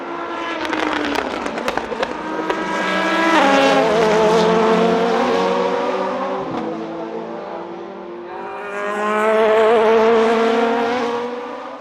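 Race cars at the 24 Hours of Le Mans 2021 scream past at speed, two loud passes swelling and fading with sharp engine whine and crackling pops, close to the trackside listener.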